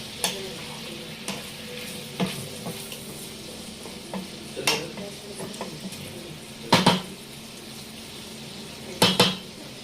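Pork innards sautéing for Ilocano sinanglao, a steady sizzle under irregular stirring, with utensils knocking and scraping against the pan and two loud clatters, close by, with faint talk in the background.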